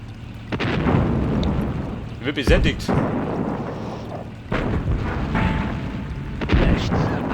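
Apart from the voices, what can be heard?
artillery cannon fire and explosions in the video game Sudden Strike Forever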